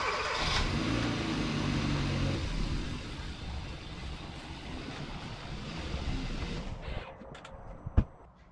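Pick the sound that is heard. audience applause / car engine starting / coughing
car engine starting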